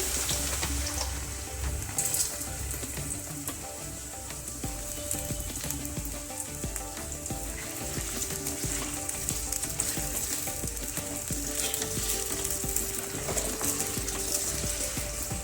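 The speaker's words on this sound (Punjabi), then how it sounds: "ਮੈਂ ਤੇਲ ਦੇ ਵਿੱਚ ਆਲੂ ਪਾ ਦਵਾਂਗੀ ਆਲੂਆਂ ਨੂੰ ਆਪਾਂ ਫਰਾਈ ਕਰ ਲਵਾਂਗੇ" Potatoes frying in hot oil for a capsicum and potato dish, a dense, continuous close sizzle that stays loud and even throughout with faint stirring underneath.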